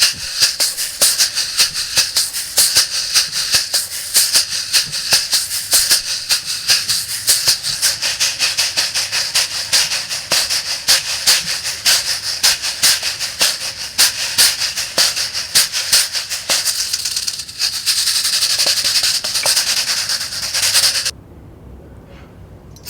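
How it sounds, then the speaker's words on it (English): A kayamba, the Swahili raft rattle, is shaken in a fast steady rhythm, a loud dense hissing swish of seeds with rapid pulses, close up and alone, stopping abruptly near the end. "This is a rattle in English, but in Swahili it's called kayamba."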